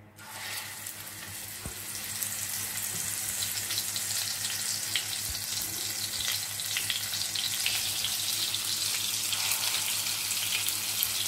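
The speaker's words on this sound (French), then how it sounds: "On va maintenant passer à la friture des boudins de poulet" Chicken sausages sizzle and crackle steadily in hot oil, a dense close frying hiss with occasional pops, continuous and free of talking.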